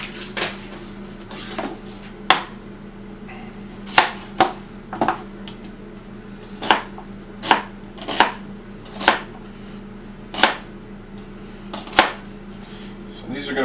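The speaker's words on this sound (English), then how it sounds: "Let's get this chopped up, get all the scraps off of it." A knife chopping vegetables on a cutting board for buffalo chicken soup, sharp close thwacks in an uneven rhythm, about a dozen strikes with short pauses between them.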